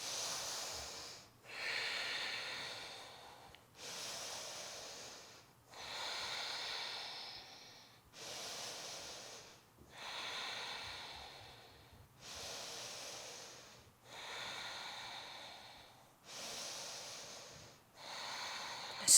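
Deep, slow breathing held in a yoga warrior two pose, with about ten long even breaths in a steady rhythm, close and soft, each a hissing rush of air through the nose.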